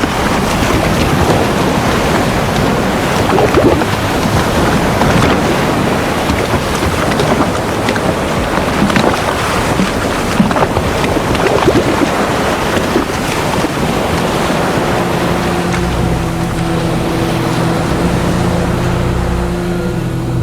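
Choppy open sea with waves slapping and churning, heavy wind buffeting the microphone throughout, and a low steady engine-like drone joining in the last few seconds; no talk.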